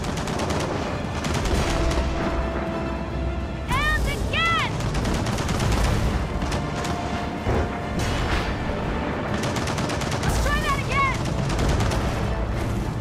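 Gunfire shooting at a bomb in Gears of War 4 co-op on Insane difficulty, dense rapid automatic bursts under continuous game noise with a couple of rising whistle-like tones, and voices shouting over it.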